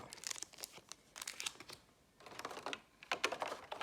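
Plastic packaging crinkles and rustles in bursts as a Pokémon card box (Charizard Celebrations collection) is opened by hand, close and fairly quiet, with brief pauses between crackles.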